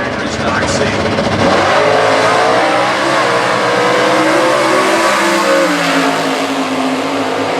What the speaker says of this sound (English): The Motion Performance 1970 Camaro